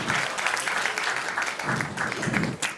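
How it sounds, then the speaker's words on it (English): Audience applause for a group of schoolgirls taking the stage at a student innovation challenge, steady clapping from a crowd throughout, fairly close and sustained. "Can you give a big round of applause?"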